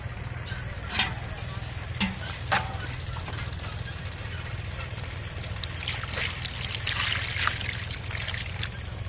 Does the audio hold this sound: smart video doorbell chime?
no